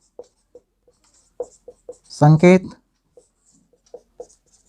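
Chalk or marker taps and strokes on a board come as short, sparse marks, with a brief burst of speech in the middle.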